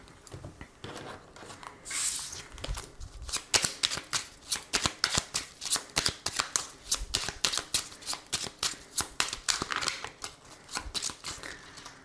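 Oracle cards being shuffled by hand, a steady run of crisp riffling and slapping strokes repeated rhythmically, close and fairly quiet, with no talking.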